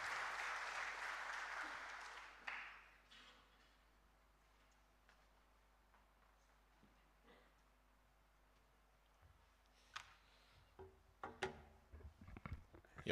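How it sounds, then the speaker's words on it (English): A crowd at a university job fair in Nairobi applauds as a speaker walks up. The dense clapping is loud at first, then fades quickly into a quiet room with scattered knocks and shuffling. "A good hand clap as he makes his way."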